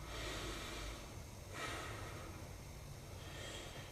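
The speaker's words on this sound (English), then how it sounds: "and breathing like this." Slow, deep breaths from a deep breathing exercise for singers, with a couple of audible airy inhales and exhales, close and fairly soft without talk.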